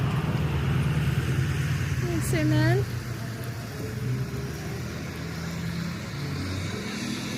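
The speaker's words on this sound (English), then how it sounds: "This is the main thoroughfare through town, so pardon the traffic noise." Traffic on a small mountain town's main thoroughfare in Hot Springs, North Carolina, rumbles low and steady as a vehicle passes, while a person talks nearby.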